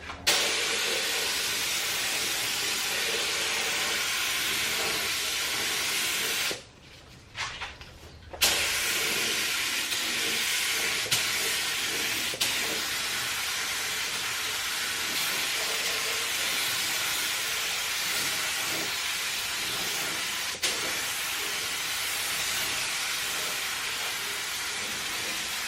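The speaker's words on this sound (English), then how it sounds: "We just laid down some heavy coats of clear." A spray gun lays heavy coats of clear coat paint in the engine bay of a MKIV Toyota Supra. A loud, continuous hiss runs throughout, with one brief break partway through.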